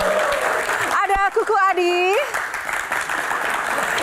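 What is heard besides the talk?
applause for panelists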